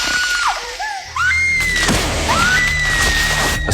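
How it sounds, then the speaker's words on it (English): A woman lets out a loud, piercing movie-style scream whose pitch rises and bends in long wavering cries, backed by dramatic crashing effects. "a scream woke up her roommates"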